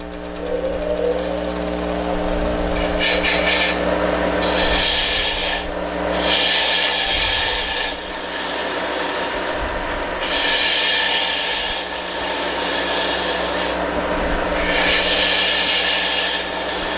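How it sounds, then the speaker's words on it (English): A small bowl gouge cuts wood on a lathe while a peppermill is being turned: a loud, continuous rasping hiss rises and falls in repeated passes over a steady low motor hum, with no talk. "I'll use my little bowl gouge. You can ride a bevel there in like that, right?"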